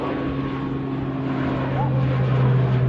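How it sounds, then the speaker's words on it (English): An ATR turboprop takes off at Manchester Airport, a steady droning propeller hum with a low tonal buzz, swelling slightly toward the end as voices talk over it. "It's ATR hopping over to the Isle of Man. So quick to get up those aircraft."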